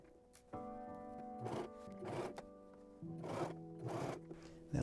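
A sewing machine stitching a dress shirt, giving a faint, steady motor whine that shifts pitch partway through, with short rhythmic bursts of stitching noise riding on top.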